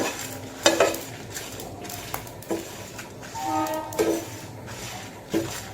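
Spice mix frying in a pan for raw mango pickle, with a steady soft sizzle and a few sharp clinks and scrapes of a spoon stirring against the pan, heard up close with no talking.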